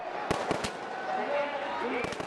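A few sharp bangs of fireworks pop out over a steady crowd murmur, two early bursts and a cluster near the end, with distant voices throughout, at the fireworks finale of the Dasera festival in India.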